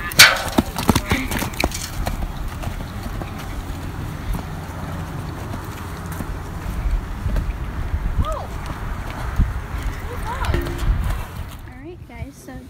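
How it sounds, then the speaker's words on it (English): Hooves clip-clop irregularly as a horse moves about at a barn, with wind and scattered knocks; a voice speaks briefly over the activity. "I have to lunge Coto today because he hasn't been ridden for a week"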